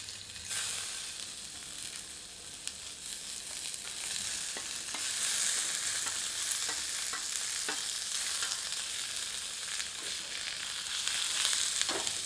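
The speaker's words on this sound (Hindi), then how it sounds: "गर्म तेल में पनीर के टुकड़ों को थोड़ा सा भूनते हैं।" Paneer pieces frying in hot oil in a pan, a steady bright sizzle and crackle that holds for the whole stretch with occasional stirring, close and constant, no voices.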